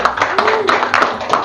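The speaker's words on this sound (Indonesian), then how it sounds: "Tepuk tangan dulu semuanya." Audience clapping at a public talk on free legal consultation in Palembang, with sharp separate claps in an uneven rhythm, fairly close, over a steady background murmur of voices.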